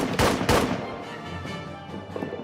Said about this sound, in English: The thunder of the cannons comes from our side